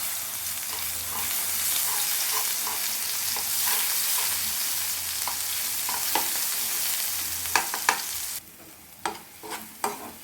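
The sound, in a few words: small onions frying in oil tempering for thokku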